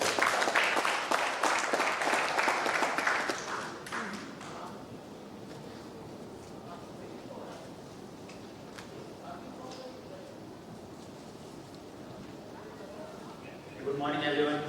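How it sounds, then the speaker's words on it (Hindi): Loud audience applause welcoming a speaker at a 2022 Bihar convention fills the first few seconds, then thins out as a voice begins talking and continues over faint room noise. "जोरदार तालियों से स्वागत करें।"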